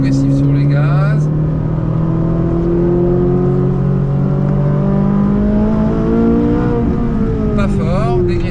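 A Ferrari 458 engine accelerating on a race circuit, a loud sustained rising drone heard from inside the car with steadily climbing pitch, and brief higher whines at the start and end.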